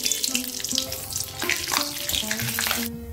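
Whole cumin, cardamom, cloves and cinnamon crackle in hot oil for mutton keema, a loud, close, continuous frying hiss with faint music underneath.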